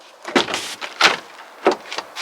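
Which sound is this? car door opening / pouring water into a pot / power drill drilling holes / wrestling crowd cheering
car door opening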